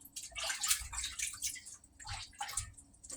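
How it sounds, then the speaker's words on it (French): Salad leaves being washed by hand in a basin of water during a second wash, with splashing and sloshing coming in two bursts, close and moderately loud. "je lave encore pour la deuxième fois. Lavez toujours votre salade bien"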